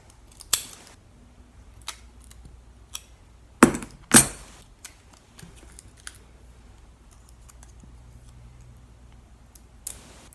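Scissors cutting out paper pieces for a handmade graduation card, a few sharp close snips spread apart, with quiet pauses between them and no voices.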